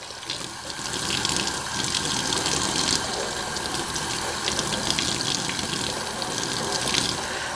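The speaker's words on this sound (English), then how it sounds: "I'm going to rinse out this scoop real quick" Running tap water pours steadily into a sink as a scoop is rinsed in a home kitchen during cake baking, a continuous close splashing hiss with faint clinks throughout.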